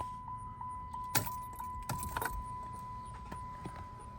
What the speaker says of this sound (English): Turn ignition on.